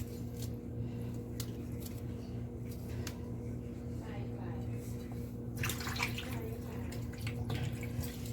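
Water runs steadily from a tap while scotch bonnet peppers are washed, a faint continuous flow beneath a low hum, with occasional light clicks and splashes from handling.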